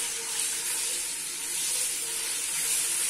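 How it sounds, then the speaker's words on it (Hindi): Ginger garlic paste frying in hot oil in a pan, a steady close sizzle and hiss with no talk over it. "तो हमने थोड़ा सा फ्राई कर लेना है।"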